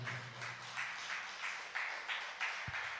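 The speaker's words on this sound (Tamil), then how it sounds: "கைத்தட்டி ஆமேன்னு சொல்றீங்களா?" A church congregation at a year-end fasting prayer service claps, a faint, steady rhythmic patter of hands at a distance that keeps an even beat throughout.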